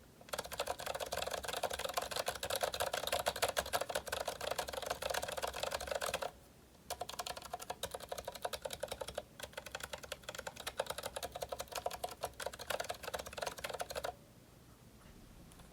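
Rapid, continuous typing on a GK61 mechanical keyboard with lubed Zilent V2 switches and thick 1.5 mm keycaps, producing dense muted clacks, with two brief pauses and quieter taps at the end.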